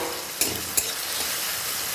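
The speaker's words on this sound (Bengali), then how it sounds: "তেলটা গরম হয়ে গেলে কেটে রাখা আলুটা দিয়ে দিলাম একটু নুন আর হলুদ দিয়ে আলুটা ভেজে নেব" Potato pieces with salt and turmeric fry in hot mustard oil in a kadai, giving a steady close sizzle broken by two brief scraping stirs, with no voices.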